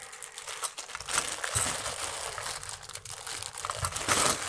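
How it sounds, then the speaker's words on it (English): Close crinkling and crumpling of bubble wrap as a small VAYINATO Nemo 300 WRGB aquarium light for a one-foot tank is unwrapped, steady rustling bursts without speech. "So let me just unwrap this."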